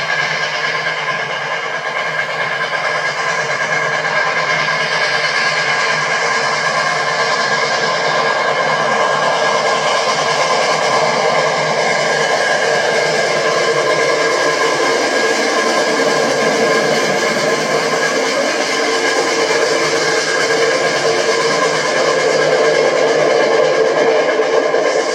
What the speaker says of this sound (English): Steaming west of Holiday, Kansas the following morning, 3751 powers her train toward Topeka